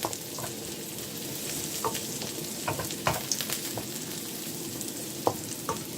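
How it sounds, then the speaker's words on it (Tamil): Onion, ginger paste and curry leaves sauté in a pan for spicy upma, a soft continuous sizzle with scattered light clicks and scrapes of stirring, fairly quiet and close. "இஞ்சி பேஸ்ட் எல்லாமே வதங்கி நல்ல ஒரு வாசனை வந்து கொண்டிருக்குது."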